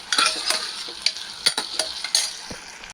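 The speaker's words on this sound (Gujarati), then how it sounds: "બટેટા થોડાક એને સાતળવાના।" Potatoes sautéing in a pan sizzle steadily while a utensil stirs and scrapes against the metal in repeated close clicks and taps.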